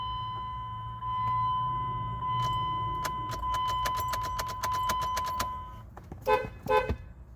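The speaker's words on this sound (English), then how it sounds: "Horn works." A horn on a car with a rebuilt 4.7 engine sounds as a long, steady tone of several seconds. Rapid clicks run over it, and clattering knocks follow after it stops.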